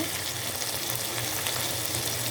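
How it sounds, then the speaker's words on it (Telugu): Ginger garlic paste frying in a pan for a drumstick, potato and cashew curry, giving a steady, dense sizzle that stays even and close throughout. "కొంచెం అల్లం వెల్లుల్లి పేస్ట్ వేస్తున్నాం"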